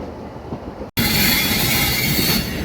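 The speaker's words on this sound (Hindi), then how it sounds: "वो सामने देखिए एक डीजल लोकोमोटिव शंटिंग करता है" Rail noise at Ludhiana railway station in the morning, where a diesel locomotive is shunting: a steady grinding roll of wheels on track that cuts out briefly, then returns louder and harsher, with a squealing edge.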